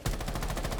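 Rapid automatic fire from Buck's rifle, fitted with an extended barrel, in the video game Rainbow Six Siege: a short, steady burst of closely spaced shots at an even rhythm, heard up close with no talking.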